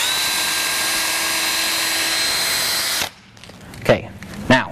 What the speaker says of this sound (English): Drill.